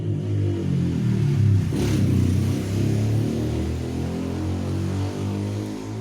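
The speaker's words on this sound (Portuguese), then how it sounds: "tem que parar um pouquinho por causa do barulho dos carros aqui" Cars and motorcycles pass outside, heard as a steady, moderately loud low rumble of traffic with a brief swell near the middle, and no talking.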